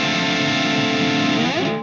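Electric guitar through a Mesa Boogie Rectifier Badlander 50-watt amp, a loud sustained distorted chord with rich harmonics that shifts slightly near the end before being cut off, heard alone.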